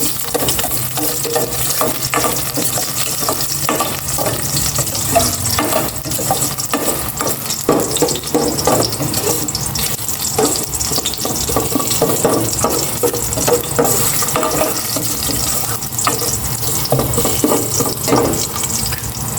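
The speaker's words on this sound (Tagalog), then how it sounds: "maglagay na ako ng cooking oil. Mag-isa na ako ng bawang." Garlic sautéing in cooking oil in a pan, a loud, continuous sizzle with scraping and stirring clatter close by.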